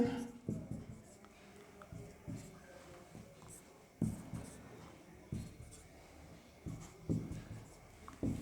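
Writing on a board during a Class 12 maths lesson on determinants: quiet, scattered scratchy strokes and small taps that come in short bursts, with a voice faintly present at times.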